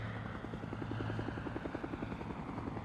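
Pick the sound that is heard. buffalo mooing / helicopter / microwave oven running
helicopter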